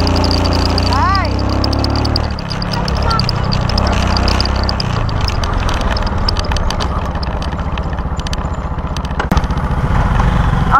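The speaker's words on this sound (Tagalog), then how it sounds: "Ang hirap na hirap yung makina ko." A vehicle engine labors and strains while climbing the uphill road toward the Dambana ng Kagitingan on Mt. Samat, droning loudly and steadily close by, with people talking over it.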